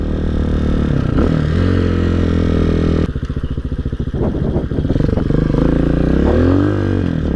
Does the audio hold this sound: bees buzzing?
no